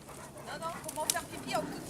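Family dogs whimper and pant softly during a happy reunion, faint, quick yelps beneath people talking nearby.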